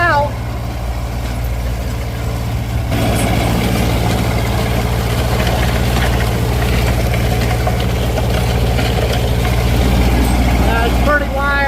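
A tractor with a plow drives across a forest slope, its engine giving off a loud, steady, low rumbling drone that continues without a break.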